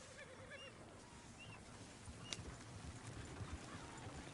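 Horses trot in the video game Red Dead Redemption 2, a steady, faint clip-clop of hooves that carries on throughout under a soft ambient bed.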